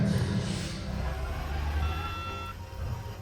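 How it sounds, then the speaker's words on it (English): A steady series of high electronic beeps sounds over a low engine rumble, evenly repeated and fairly near. "What's that beeping?"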